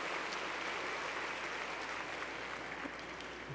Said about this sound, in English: please give Bill and his team a round of applause